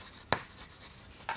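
A marker or chalk writing numbers on a board: two short, quick scratchy strokes separated by a near-silent gap.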